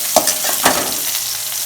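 Onions frying in hot oil for a snake gourd kootu, a loud close sizzle with two quick stirring scrapes near the start, then a steady hiss with no talking.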